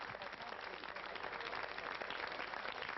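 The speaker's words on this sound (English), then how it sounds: "Let's give him a big hand to cheer him up." Applause from a studio audience on a live late-night television talk show, a steady dense clapping that fills the whole stretch at even loudness with no talk over it.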